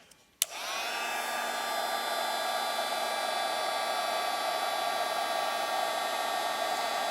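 A heat embossing tool runs in a steady, loud whir over cardstock, starting with a click just after a brief quiet moment and then holding a constant blowing hum with no talking.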